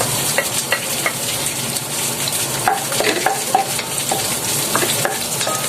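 Garlic sizzles in hot cooking oil in a pan for laing with dried fish, a steady close frying hiss broken by frequent clinks and scrapes of a spatula stirring.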